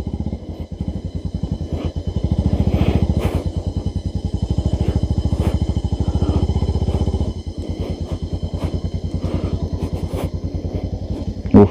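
A motorcycle rides off-road on a muddy route near the Arun river toward Tumlingtar, its engine pulsing steadily and close, swelling and easing with throttle across the ride and no talk over it.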